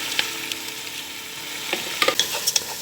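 Rinsed, drained lentils go into finely chopped onions browned in two large spoons of oil for koshari, giving a soft continuous sizzle with scattered clinks and scrapes of stirring, no speech.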